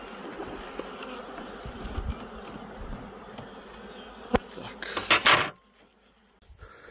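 Honey bees buzz around beehives outdoors in late May, a steady dense hum close by with scattered louder passes, a few knocks of wood and a brief sharp rustle before it drops quiet.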